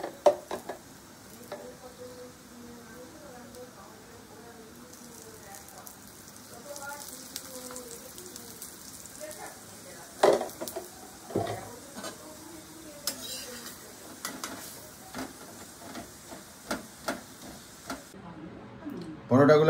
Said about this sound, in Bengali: 1 চামচ তেল দিয়ে একটু কড়া করে পরোটাটা ভেজে নেব।